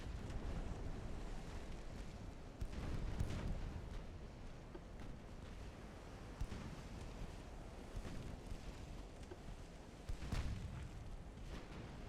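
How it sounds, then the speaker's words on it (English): A torpedo explodes in the naval warfare game Ultimate Admiral: Dreadnoughts, heard as dull, muffled bursts rising out of a steady roar of sea, wind and waves that fills the whole stretch. "There's a torpedo going off there."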